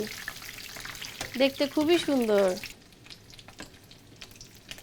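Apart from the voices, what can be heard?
jali kabab frying in oil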